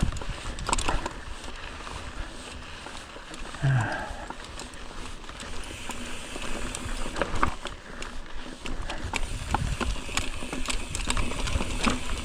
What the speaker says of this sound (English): Here's my Zoleo. Satellite device rattling.